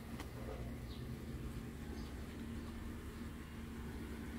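A car engine idles and hums steadily at close range as the vehicle rolls slowly forward toward a home garage door, with no talking.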